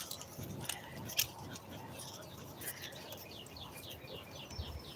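Small birds chirp outside, a series of quick, high, faint tweets repeating in a rapid run toward the end, over quiet background noise with a brief clink.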